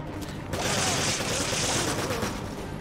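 Rapid, continuous bursts of automatic fire from a mounted turret gun in the Resident Evil 5 video game, loud and dense with a mechanical rattle.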